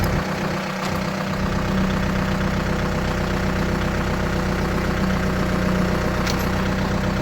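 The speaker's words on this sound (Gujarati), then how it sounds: "હસ્તી થોડીક આગળ ખેંચવી પડશે ટ્રેક્ટરથી" A tractor engine runs steadily while pulling a pipe-and-motor assembly up from a farm well, giving a constant close, loud chugging drone with an even pulse and no pauses or speech.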